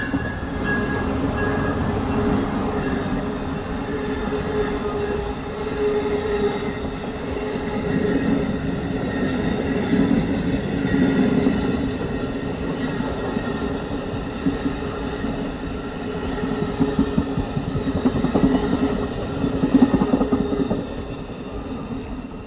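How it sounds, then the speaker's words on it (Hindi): An Amtrak Silver Meteor passenger train passes a rail camera on Center Street, a loud continuous rumble of wheels and cars with rhythmic clacking and faint squeals throughout. "स्ट्रीम खोलते ही हम देखते हैं कि सिल्वर मीटियोर सीधा सेंटर स्ट्रीट पर आ रहा है।"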